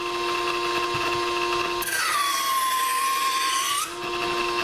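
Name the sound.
electric knife sharpener sharpening hunting knife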